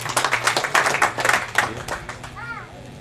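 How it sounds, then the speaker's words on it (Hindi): Clapping from a village satsang gathering, fairly loud and broken into bursts, mixed with children's voices and talk, fading toward the end. "जोरदार तालियां भैया।"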